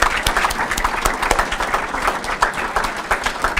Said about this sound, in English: We could have the students stand up now and applaud.